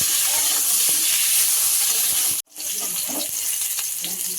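Bitter gourd pieces fry in hot oil in a kadai for shukto, giving a steady bright sizzle. The sizzle breaks off for a moment midway, then resumes with faint scraping of stirring.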